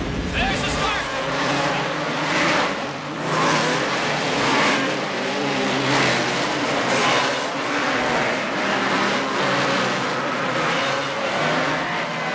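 Race cars roaring off the start line together, a thick sustained engine drone with surging, pulsing revs as the pack accelerates, loud and continuous, with a commentator's voice faintly mixed in.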